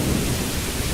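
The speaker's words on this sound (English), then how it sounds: "It's quite rainy and thunder right now" Thunder rumbles through steady, heavy rain falling outdoors, a continuous dense wash of noise with a deep low roll and no voices.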